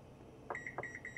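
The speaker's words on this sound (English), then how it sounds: "I'm gonna turn off this timer" A kitchen timer beeps as it is switched off: a few short, fairly quiet electronic beeps in a quick, uneven sequence with no talking.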